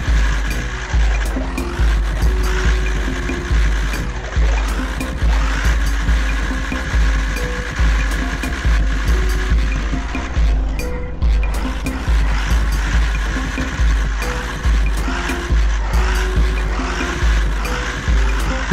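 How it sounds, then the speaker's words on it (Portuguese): A pickup truck drifts in Roblox, its engine droning loudly and steadily with a pulsing, repeated rhythm and tire noise throughout, no voices over it. "Pra fazer um driftzinho aqui com a caminhonete."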